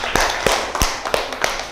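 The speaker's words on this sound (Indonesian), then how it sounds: "Tepuk tangan untuk Lia." A few sharp, close hand claps ring out separately in a classroom to applaud a student, spaced irregularly over a steady room hum.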